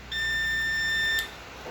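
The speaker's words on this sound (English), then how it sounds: "before pressing power button, directly it's showing beep" A laptop motherboard on a repair bench gives a single steady electronic beep lasting about a second before the power button is pressed, clear against a quiet background.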